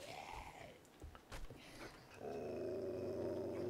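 Dog growling in the survival video game 7 Days To Die, a low rumbling snarl over game ambience, swelling into a steady sustained growl in the second half.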